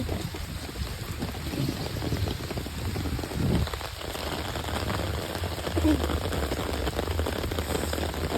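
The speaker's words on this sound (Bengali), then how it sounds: "ঝিরি ঝিরি বৃষ্টি হচ্ছে।" Light drizzling rain falls steadily on surfaces outdoors, a soft continuous patter with some faint background noise and occasional louder moments, heard up close without talk.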